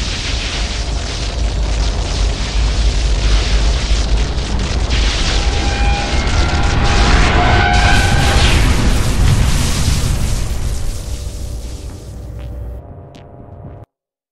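A loud, sustained roaring explosion as the blue core is destroyed in an Unreal Tournament 3 match, rumbling for several seconds before fading and cutting off.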